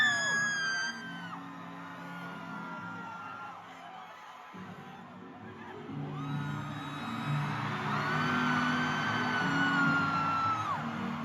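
A concert crowd at the opening night of the It's All a Blur Tour screams and whoops as the headliner comes on stage, with loud sustained cheering that swells near the end.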